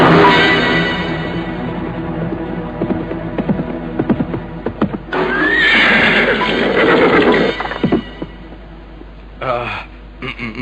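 Horses whinny loudly as riders arrive on horseback, with hooves clopping and a voice speaking over the commotion.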